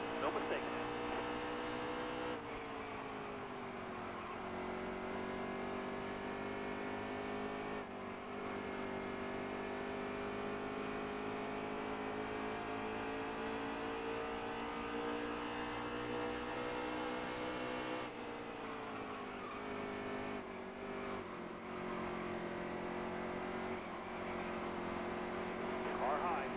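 Race car engines from a racing video game drone and rev steadily at a loud level throughout, with shifting pitch as gears change, while a voice talks over the top.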